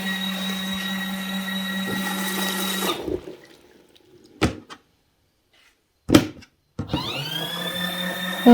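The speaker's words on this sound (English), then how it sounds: "So just press on switch and it started on its own." Cheap mini washing machine from Temu running with a steady electric motor hum that cuts off, followed by clunks and knocks and a brief restart of the whirring motor.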